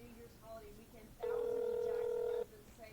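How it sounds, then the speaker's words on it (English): A telephone dialing the US Department of Treasury number gives one loud, steady DTMF tone that lasts just over a second, with faint background noise on either side. "That's the Department of Treasury phone number I'm calling."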